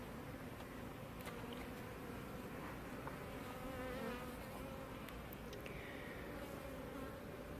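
Honeybees buzz steadily around a beehive, a dense, continuous hum of many insects close by with individual bees droning past, no voices.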